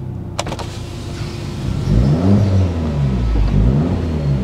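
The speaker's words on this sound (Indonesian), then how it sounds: "Oke ya, ini bunyi knalpotnya di belakang sih." A car's replaced aftermarket exhaust rumbles from the rear, heard from inside the cabin with the window opened; a brief electric window whir comes first, then the engine revs into a deep, swelling drone that holds steady and close.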